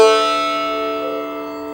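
One pluck of the sitar's thinner fifth string, a bright attack that decays into a buzzing, overtone-laden sustain, short and fairly loud, alone without voices.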